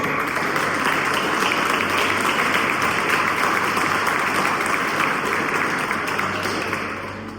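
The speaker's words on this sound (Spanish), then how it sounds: "Bríndele un fuerte aplauso al Señor." Sustained applause from a church congregation during a Spanish-language sermon, a dense, even roar of many hands clapping that holds steady for several seconds before tapering slightly at the end.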